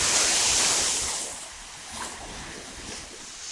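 Ocean surf washes in a loud broad rush that fades into a softer, steady hiss of waves.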